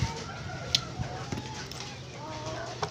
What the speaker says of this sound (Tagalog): May manok po sa likuran ko.